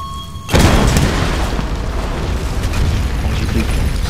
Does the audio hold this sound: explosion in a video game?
yes